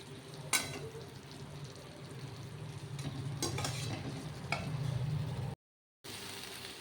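Spice paste with turmeric and salt sautéed in a pan: a continuous low sizzle under repeated scraping stirs of a spoon against the pan, with a few sharper clinks and a short break near the end.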